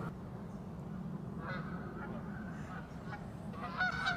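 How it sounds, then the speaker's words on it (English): Cackling geese honking outdoors, a few faint, distant calls rising late over steady wind and ambient noise. "And there we go, a cackling goose."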